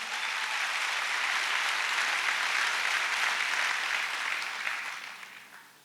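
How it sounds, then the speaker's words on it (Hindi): Audience applause at a Mumbai success day event, a large crowd clapping in a steady, sustained wash that gradually fades toward the end. "उनके लिए एक जोरदार ताली मैं चाहूंगा प्लीज"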